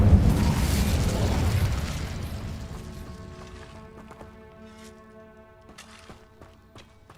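Spell blasts from Bombarda and Incendio in the Hogwarts Legacy video game: a loud broadband explosive burst up front that rumbles and decays over several seconds, followed by quieter ringing magical tones and scattered small clicks.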